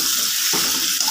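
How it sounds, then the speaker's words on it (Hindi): Chili and bay leaf sizzle steadily in hot oil in a home kitchen, a close, continuous crackling hiss with a brief stir midway and no voices. "तेल डाल दिया है, मिर्ची डाल दी है, तेज़पत्ता भी डाल दिया है।"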